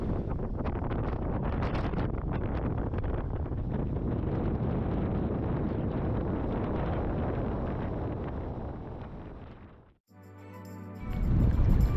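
Strong wind gusts of around 25 knots roar steadily across a microphone aboard a sailboat on Strangford Lough, a dense buffeting rush that holds nearly unbroken before briefly dropping out and surging back loud at the end.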